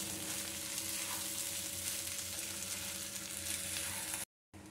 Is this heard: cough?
no